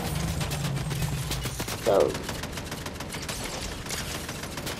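Turret gunfire in Fortnite crackles as a steady, dense rattle beneath game noise, with a brief louder burst midway and a single short spoken word.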